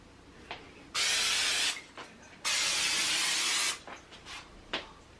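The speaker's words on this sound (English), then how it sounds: "So I'm going to make sure that I spray the same amount on both" Two bursts of all-purpose cleaner sprayed onto a mirror from a trigger bottle, each a loud, close hiss lasting about a second, with quieter handling noises in between.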